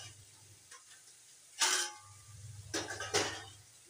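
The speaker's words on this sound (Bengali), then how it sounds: "এখন আমি এটা একটা তোমার ঢাকনা দিয়ে দেবো" A lid set onto a pot of Bengali prawn curry (chingri macher jhaal) on the stove gives a sharp metallic clank, followed a moment later by a few more rattling knocks over a low hum from the stove.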